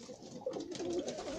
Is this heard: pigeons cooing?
yes